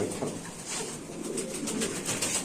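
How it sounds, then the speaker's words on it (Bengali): A Mundian pigeon at a pigeon sale coos in soft, repeated throaty murmurs, close and moderately loud, alone without speech over faint background noise. "এক পিস মুন্ডিয়ান কবুতর দেখেন আপনারা"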